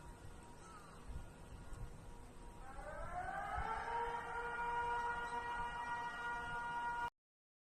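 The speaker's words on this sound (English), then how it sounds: "That is a scary siren that's meant to be scary for a reason" A tsunami warning siren winds up after a few seconds into a loud, sustained rising-then-steady wail with layered harmonic tones, heard from a distance over low background noise, then cuts off abruptly.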